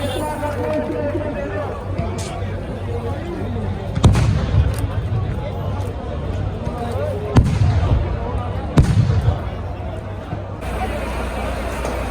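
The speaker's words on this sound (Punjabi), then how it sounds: "ਇਹ ਪਟਾਕੇ ਚਲਾ ਦੇ ਪਟਾਕੇ ਚਲਾ ਦੇ" Several sharp firecracker blasts go off a few seconds apart amid crowd chatter and background babble at a tense farmers' protest.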